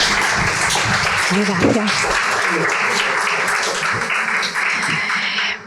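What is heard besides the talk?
audience applause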